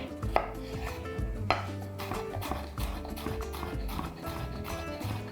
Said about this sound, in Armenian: Չերի վարունգը կտրատում ենք խորանարդիկների